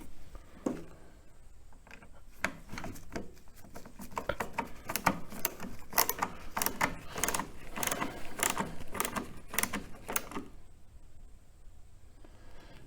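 Screw being driven into the plastic intake air filter housing of an Audi S4 B8, a rapid series of sharp ticking and clicking bursts close by, steady for about ten seconds then stopping, with no talk.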